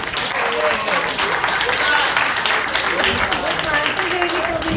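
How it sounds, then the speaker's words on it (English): Dense audience applause at a school staff appreciation award event, a loud continuous wash of clapping from many people with voices mixed in throughout. "a huge round of applause"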